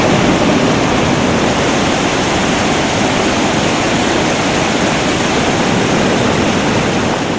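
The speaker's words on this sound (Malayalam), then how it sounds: "പാറക്കെട്ടുകളിലൂടെ ആർത്തലച്ചെത്തുന്ന വെള്ളം ഷിറിയ പുഴയിലേക്കാണ് ചേരുന്നത്" The Kambam waterfall in Kasaragod roars loudly as water crashes over the rocks on its way into the Shiriya river, a constant, dense rush that never lets up and has no voices over it.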